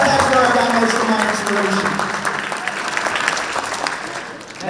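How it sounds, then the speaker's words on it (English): Audience at a university Persian student association show claps for a performer's father; loud clapping and cheering mix with voices early on, settling into steady applause that softens slightly toward the end. "Let's give my dad a huge round of applause"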